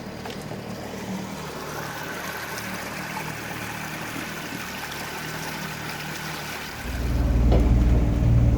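A small boat motoring back into Carrabelle harbor, Florida, in rising wind and following seas, with a steady engine drone and rushing wind and water noise throughout, swelling to a louder, deeper roar near the end.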